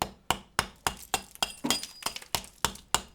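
Regular sharp knocks on hollow, detached wall plaster at a window reveal, about a dozen taps in quick succession, each with a short dull ring, close by.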